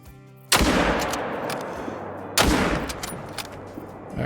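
Two sharp rifle shots at bucks in the hunting game Call of the Wild, each a loud crack with a long rolling echo fading over about two seconds, the second shot spaced after the first.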